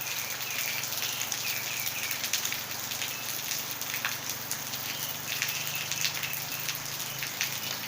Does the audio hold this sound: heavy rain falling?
yes